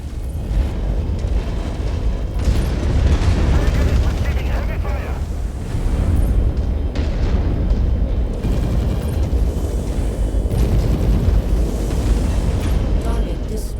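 Heavy, rumbling explosions as mech combat destroys installations in MechWarrior 5: Mercenaries, dense and loud throughout with booms and mechanical clatter, radio voices talking over the action.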